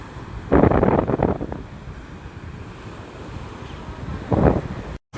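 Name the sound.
sea wind at the beach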